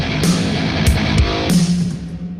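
A heavy metal drum pattern plays with the kicks and snares shifted onto the upbeats, under dense distorted guitar. It sounds loud and driving, with punchy low thumps and sharp cymbal crashes in a syncopated groove and no voices.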